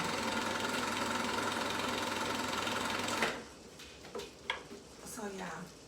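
A sewing machine runs steadily on a zigzag stitch for about three seconds, a loud, even mechanical whir, then stops, leaving quieter handling clatter and a faint voice.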